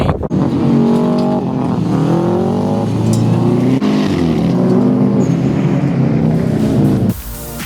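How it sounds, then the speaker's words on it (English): A 2004 Subaru Forester XT races at a rallycross event, its engine droning loud and close throughout with rising and falling revs as it accelerates and shifts. No one speaks. "Today I'm rally crossing my 2004 Forester XT."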